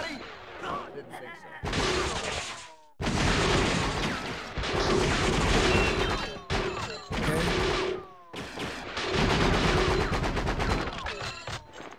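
Loud bursts of gunfire and rapid automatic volleys in the video game True Crime: Streets of LA come in several long stretches, broken by short pauses, with voices talking over parts of it.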